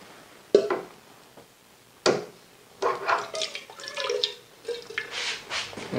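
Water dripping and splashing from a disconnected hose on a Clawhammer Supply home brewing system, with a couple of sharp knocks followed by irregular close drips.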